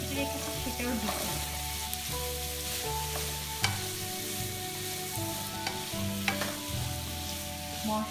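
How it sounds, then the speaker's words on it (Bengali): Sliced cucumber and slit green chillies sizzle steadily in cooked-down spiced masala for a koi fish curry, a loud continuous fry with occasional stirring clinks and a low hum underneath, close and unbroken, no voices. "এখন আমি যে শসাগুলো কেটে রেখেছি তার সাথে দুটো যে কাঁচা মরিচ মাঝখানে কেটে রেখেছি সেটাও দিচ্ছি"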